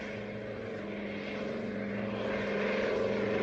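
A propeller-driven airplane drones steadily throughout, a continuous engine hum that gradually grows louder as if approaching, with no voices.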